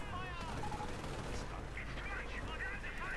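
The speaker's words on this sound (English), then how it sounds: "my Nebelwerfers are now firing off" Nebelwerfer rocket barrages and battlefield gunfire rumble in the Company of Heroes video game, a dense continuous wash of distant explosions and shots at low volume.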